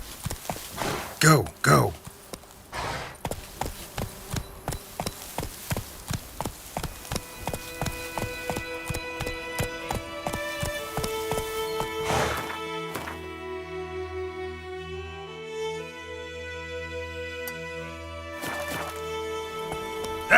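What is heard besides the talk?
horse Roach galloping in The Witcher 3 video game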